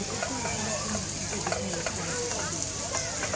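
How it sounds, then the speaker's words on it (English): Spices crackle and sizzle in hot oil as they temper for a Sri Lankan crab curry, a steady close frying hiss with stirring scrapes and faint background voices. "we just throw spices in and smell. So that's tempering nicely"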